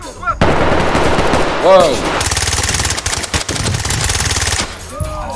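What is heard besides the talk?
gunfire in Ready Or Not video game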